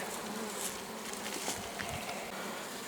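Honey bees at an open hive in a forest apiary make a dense, continuous hum close by, a soft steady buzz with no speech.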